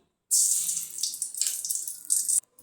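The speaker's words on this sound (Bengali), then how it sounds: "প্রথমে আমি এই ঘিটা ঢেলে দেবো" Ghee pours into a pan in a short, hissing, liquid stream lasting about two seconds, close and fairly loud, with brief dips before it stops abruptly.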